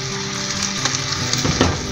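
Ají amarillo and green beans frying together in a pan, a steady close sizzle with small crackles and pops throughout.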